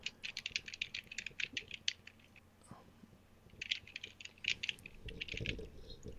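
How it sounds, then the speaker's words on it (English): Computer keyboard typing, bursts of quick light key clicks in two runs separated by a short pause, close and fairly quiet, with no talking. "You can hear me typing away."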